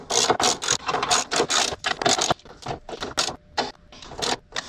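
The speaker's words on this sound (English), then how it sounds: "Time to tighten the nuts down on the top of the struts." Ratcheting wrench work tightening the strut top nuts on a 2020 Shelby GT500 with camber plates, a dense run of rapid clicking bursts with brief pauses, close up and without talk.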